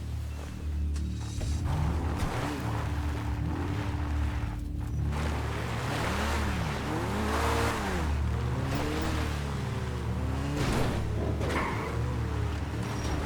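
Stromberg cars in GTA Online with steady engine drone and revving pitch sweeps, mixed with water-like surf wash, sustained and fairly loud throughout.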